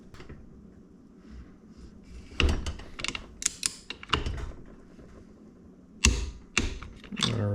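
Torque wrench tightening a clutch bolt to 40 Newton meters on a Honda CRF150R motorcycle during a slipper clutch install, heard as a few sharp close clicks and metallic ratchet ticks separated by quiet gaps.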